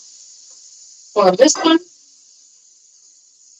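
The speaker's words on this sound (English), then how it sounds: "Oh, I hear the sizzle." Food sizzles in a pan during home cooking, a steady, even hiss that runs the whole time while a person speaks briefly over it.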